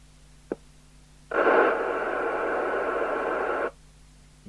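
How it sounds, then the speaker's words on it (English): A burst of broadband hiss and crackle from a worn volume control on a Fidelity CB2000FM CB radio swells in abruptly, holds steady for a couple of seconds, then cuts off, with a faint click beforehand and a low background hum. "noisy volume control"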